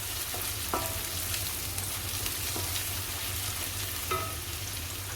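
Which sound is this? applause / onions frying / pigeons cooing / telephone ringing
onions frying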